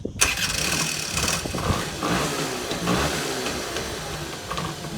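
Honda Scoopy 75cc scooter engine cranked on its electric starter and catching, a sharp start followed by a steady mid-pitched running note with small revs over a few seconds, close by, no talking.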